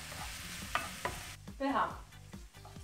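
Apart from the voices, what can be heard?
mushroom and cheese omelette frying in a pan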